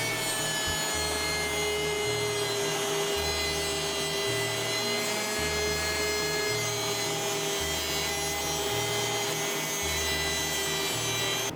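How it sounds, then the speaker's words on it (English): A short length of pipe being sawn for a DIY camera frame, steady back-and-forth rasping strokes running without a break, close and even in level, with no voices. "So I cut a little bit more pipe."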